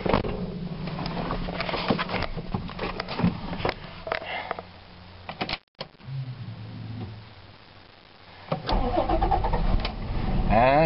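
A Dodge Dakota pickup truck engine cranks and catches, then runs and idles with a mid-pitched rumble, a short pause and some clattering revs near the end.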